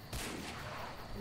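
A single loud, booming EM2 sniper rifle shot in a video game, with a sharp crack followed by a rumbling tail that fills the short moment.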